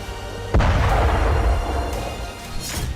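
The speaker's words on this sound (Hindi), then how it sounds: "हवा में ड्रोन में धमाका" A drone explodes in the air in a single sharp boom that rolls into a long rumbling decay, followed by fainter distant thuds, during the Russia-Ukraine war.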